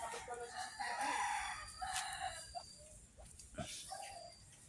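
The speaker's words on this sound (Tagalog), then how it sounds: "Siguro ito yung manok." Chickens cluck and squawk at close range in a short burst of farmyard activity, with scattered calls rising over a steady outdoor background.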